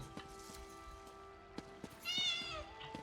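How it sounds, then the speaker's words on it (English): A cat in The Elder Scrolls Online gives a single clear meow, rising and falling briefly, amid quiet game ambience with soft footsteps and clicks around it. "There's also a cat here."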